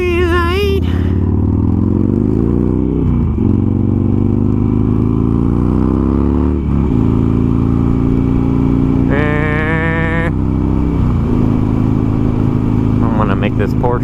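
A Harley Sportster motorcycle running with fresh spark plugs, its engine droning steadily at freeway speed with gear changes and rising revs, heavy wind rumble throughout, and the rider talking over it.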